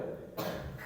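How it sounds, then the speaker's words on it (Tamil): A single short cough bursts out close by during a dance practice session, one harsh burst against a low background. "இல்ல இருமல்"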